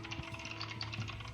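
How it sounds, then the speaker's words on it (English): Soft, rapid keystrokes on a computer keyboard click in an even patter, faint and close over a low background hum. "Keyboard. Yeah, we heard you typing."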